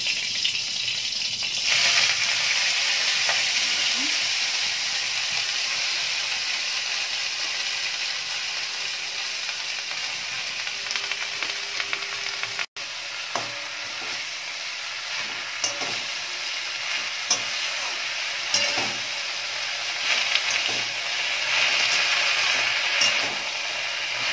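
Spinach frying in a pan with cumin and green chilies, a continuous loud sizzle running throughout with repeated stirring scrapes and clicks of a utensil against the pan.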